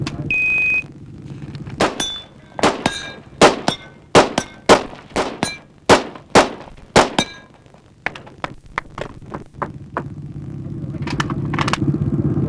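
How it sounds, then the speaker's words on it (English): A semi-automatic rifle fires a fast string of shots at a 1989 Steel Challenge match, each crack followed by the clang of a steel target. About sixteen sharp reports fall in quick rhythm over a steady background rumble. "Let's see how fast he is with a semi-automatic rifle."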